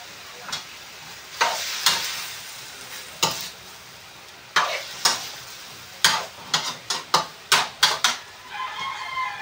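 Chicken curry stirred in a frying pan: a spoon scrapes in a dozen sharp strokes, sparse at first and then in a quick run, over a soft sizzle, close and fairly loud, with no talking.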